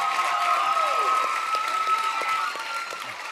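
Applause for the hosts fills a college hall at a regional student talent show final in Montreal, a dense, even round of clapping that holds steady before easing slightly near the end, with some talk over it.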